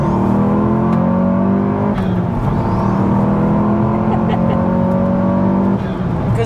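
A stage 3 Audi S1 with a manual gearbox pulls hard in second gear, its engine note climbing steadily and loudly from inside the cabin, a brief dip around a shift, with talk mixed under the drone.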